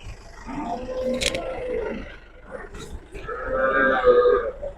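Cattle lowing at the Chakan cow market, two or three drawn-out moos rising over the crowded bargaining hubbub, with people talking nearby throughout.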